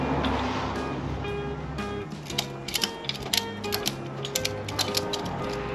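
A ratchet strap is cranked while hooked to a small car, a run of sharp metallic clicks arriving in uneven bursts over a steady low engine-like drone, fairly close and without talk.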